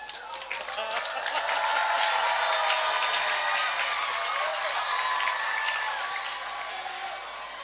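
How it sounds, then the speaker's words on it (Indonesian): A sermon audience breaks into sustained applause, dense steady clapping that swells and holds for several seconds before easing slightly, loud and close with a crowd murmur beneath. "Kok pakai tepuk tangan?"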